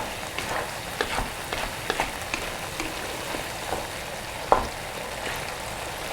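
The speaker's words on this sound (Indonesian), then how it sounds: "Kita tumis dulu ini sampai matang bumbunya." Spice paste for chicken gongso sautés in hot oil with a constant close sizzle, punctuated by scattered pops and the scrape of a spatula stirring, one sharper knock near the end.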